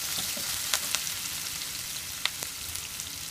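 Green chili, ginger, garlic and curry leaves sauté in hot oil with a steady, soft sizzle and a few sharp crackles and pops scattered through, close and moderately quiet with no voices.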